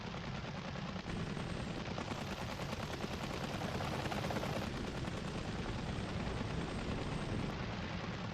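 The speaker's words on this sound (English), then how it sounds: "Hey, they're shooting at us!" Gunfire in the Apache Air Assault helicopter combat video game: dense, continuous rapid shooting layered over the loud drone of helicopter rotors, sustained for several seconds with no let-up.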